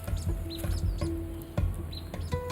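A female pheasant, a large game bird nesting up in the forest canopy trees, gives close, repeated short clucks and chirps in an irregular rhythm against a rustling forest background.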